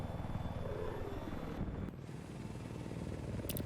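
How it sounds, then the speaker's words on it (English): A helicopter battle in Battlefield 4, with a continuous low rotor and engine drone from the game holding steady throughout, briefly dipping midway. "Helicopter battle is going to re-engage."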